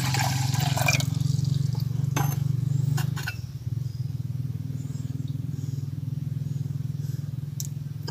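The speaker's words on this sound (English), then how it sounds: "wash with water" Water splashing and swishing steadily as hard drive connector pins are washed during gold recovery, close by, with a low hum underneath and a few brief clinks.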